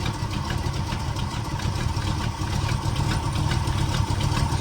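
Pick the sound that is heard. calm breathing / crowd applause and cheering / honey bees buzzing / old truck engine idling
old truck engine idling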